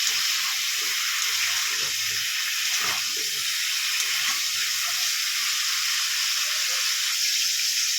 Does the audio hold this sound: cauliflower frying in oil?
yes